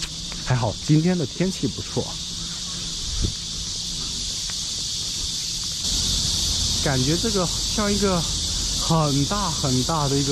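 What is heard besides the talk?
cicadas chirping in trees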